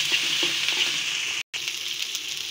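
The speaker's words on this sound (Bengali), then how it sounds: "এখন শুটকিগুলো তেলের মধ্যে টেনে নিতে হবে, একটু লাল লাল করে টেনে নিব।" Dried fish frying in oil in a pan for a Bangladeshi-style curry, a steady close hiss and crackle of sizzling with a brief dropout partway through, no voices.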